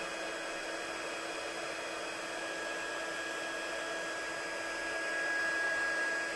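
A heat embossing tool blows hot air onto card stock, a steady whirring fan-like rush with a thin high whine, heard close and alone and swelling slightly louder near the end.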